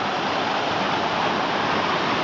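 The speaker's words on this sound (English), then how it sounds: "This little waterfall is so beautiful" A small waterfall at Mill Creek Park pours with a steady, full hiss of rushing water, continuous and close, with no other sounds standing out.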